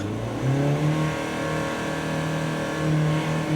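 An Opel Astra H with a 1.7 CDTI diesel engine, suffering a clogged particulate filter and an unsteady idle, is revved in a few short surges that rise and fall, heard close and moderately loud with no voices.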